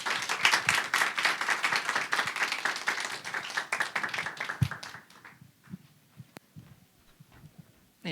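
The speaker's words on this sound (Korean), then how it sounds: "다시 한번 박수 부탁드립니다" Applause after a church talk: a room full of people claps briskly for about five seconds, then the clapping thins out into a few scattered, fading claps.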